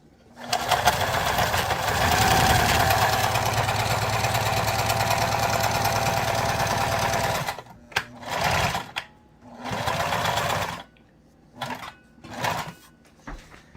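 A sewing machine run by a trucker learning to sew stitches loudly and steadily for about seven seconds, then runs in several short separate bursts going forward and backward, close up and with no talking over it.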